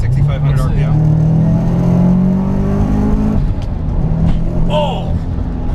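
A 500+ HP Subaru Forester accelerates hard at full throttle. Its engine note climbs steadily for a few seconds, then drops off abruptly, with loud, close road and drivetrain roar throughout.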